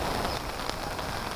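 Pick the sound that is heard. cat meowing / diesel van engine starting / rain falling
rain falling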